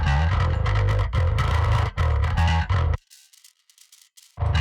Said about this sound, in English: this is a very fizzy distortion